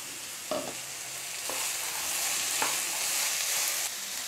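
Soaked, boiled green peas are stirred into vegetables sautéing for white kurma, giving a constant close sizzle with a few distinct scrape-and-stir strokes at intervals and no voices.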